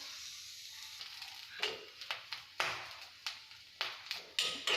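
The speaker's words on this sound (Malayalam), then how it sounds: "ഇപ്പോൾ കുറച്ച് ഓയിൽ ആഡ് ചെയ്യാണ്. നമുക്കൊന്നുകൂടെ നന്നായി വറുക്കാം." Grated coconut fries in coconut oil for varutharacha sambar, giving a quiet, steady sizzle. Sharp spoon-on-pan taps and scrapes land irregularly, about a dozen over several seconds.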